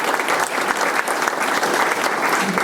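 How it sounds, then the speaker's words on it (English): An audience at a United Way campaign kickoff event applauds in a dense, continuous clatter of clapping that holds steady throughout. "you should give yourself a round of applause"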